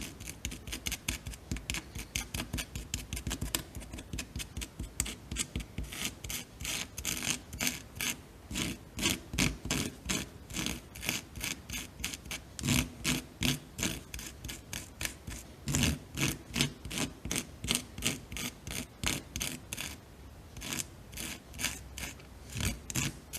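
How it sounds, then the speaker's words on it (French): A small nail head grinds scraped match heads into powder, making a steady, rapid scraping and rubbing that repeats in quick strokes, close and fairly quiet, for the whole stretch with no talking. "je prends un petit clou, tête de clou, pour faire bien de la poudre. Tout mettre en poudre."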